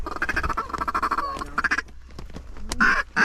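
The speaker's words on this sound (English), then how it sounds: "Oh, those are definitely mallards." Mallard ducks call during a duck hunt, loud, rapid quacks and honks bursting in quick clusters close by, with brief gaps between calls.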